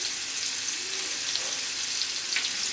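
Drumsticks and potato fry in a pan as chopped tomato goes in, giving a continuous bright sizzle with light crackling.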